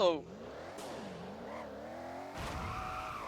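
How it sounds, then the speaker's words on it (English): A rocket car in the Roblox game Driving Empire idles with a wild, wavering engine tone that rises and falls, punctuated by brief revs, while a person talks over it. "this thing sounds insane. That idle is like crazy, and this is a rocket car"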